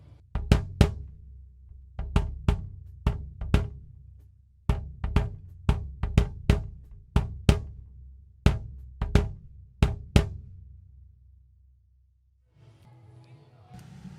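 A kick drum captured by a twin-diaphragm microphone suspended inside the drum, with punchy beater thumps in uneven patterns of singles and quick pairs over about ten seconds, then quiet with faint background noise.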